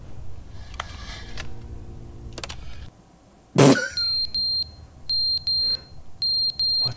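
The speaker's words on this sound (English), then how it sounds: "What's beeping?" An electronic alarm in the video game The Stanley Parable beeps in loud, evenly spaced high-pitched pulses after a sharp crash, with earlier clattering and a low background rumble.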